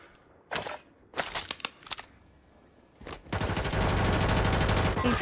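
An enemy squad fires at the player in the video game Warzone: a few sharp separate gunshots, then a sustained loud burst of rapid automatic fire that fills the last two seconds.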